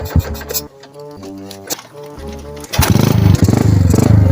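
A motorcycle engine is cranked with several uneven sputtering attempts, then catches and settles into a loud, close, steady rapid putter that runs to the end.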